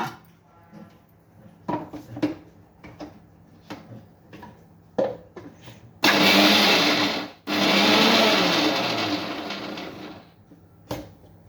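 Mixer grinder grinding soaked lentils for masala vada, first a series of short sharp pulses and clatters, then a loud continuous whirring grind for about four seconds, a brief stop, and another sustained grinding burst.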